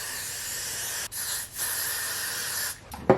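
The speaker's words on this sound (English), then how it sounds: "So I use this Got To Be Glue holding spray." Got To Be Glue holding spray hisses onto hair during a wig install, two long, close, steady sprays broken by short pauses, then a brief clatter at the end.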